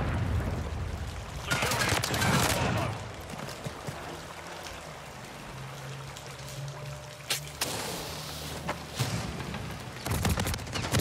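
Bursts of rapid automatic gunfire rattle through a Modern Warfare 3 Zombies match, two or three loud volleys separated by quieter stretches with a low hum, the last bursts coming in quick succession near the end.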